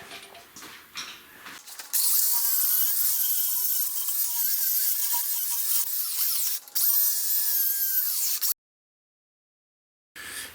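A flap disc grinder works the front bumper trim of a Pontiac Catalina 4x4 project, a loud steady whine that runs for several seconds, drops out briefly, resumes, then cuts off, with quieter tool handling before it.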